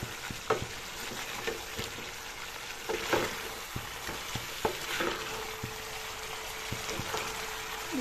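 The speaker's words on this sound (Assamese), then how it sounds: "এনেদৰে মই তল ওপৰ কৰি লৰাই দিছোঁ" Green chicken curry with coriander leaves being stirred in a pan as its water cooks off, a soft sizzle under intermittent scraping and clacking spoon strokes, fairly quiet, no speech.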